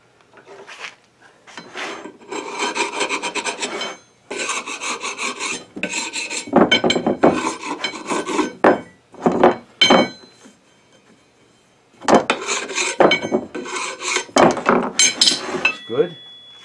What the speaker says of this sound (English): I'm going to do a teeny bit of scraping on the glue on these.